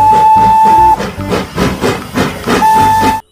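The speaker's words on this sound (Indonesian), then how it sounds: "Lihat teman-teman, ini kereta api Thomas." A Thomas toy train sounds a loud, bright steam-style whistle, followed by a rapid chugging puff pattern and a second whistle blast before an abrupt stop.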